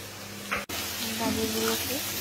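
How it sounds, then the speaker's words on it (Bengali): Chopped carrots frying in a pan for mixed fried rice give off a soft, even sizzle close by, broken by a brief clatter near the start. "গাজরগুলোকে ভালো করে ভেজে নেব"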